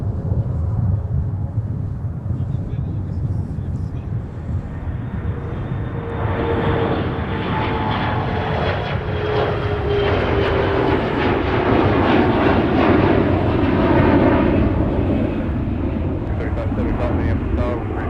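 A Delta jet departing Minneapolis–Saint Paul airport roars steadily, its engine rumble building and swelling over time, with radio chatter and a voice talking over it.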